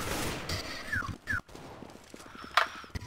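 Gunfire in a CS:GO match, a quiet burst of distant shots with a few sharp cracks spread through a short moment, no talking over it.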